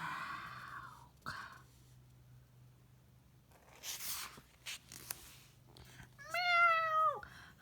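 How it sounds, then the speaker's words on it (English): A cartoon cat lets out a clear, drawn-out meow near the end, after scattered rustling and soft shuffling sounds over a quiet low hum. "Just the cat."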